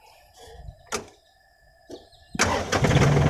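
A John Deere 3036E tractor engine cranks and then catches, rising into a loud, steady rumble after a few quiet clicks and soft knocks.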